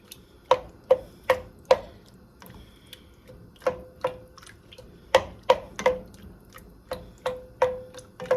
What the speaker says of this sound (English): how you make whole tomatoes diced is just use the chopper